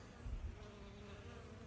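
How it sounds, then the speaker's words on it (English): Honeybees hover around a flowering lavender plant outdoors, producing a faint, steady insect drone with one slightly louder pass near the start and no talking. "could I get a few of these bees in my video here on the lavender?"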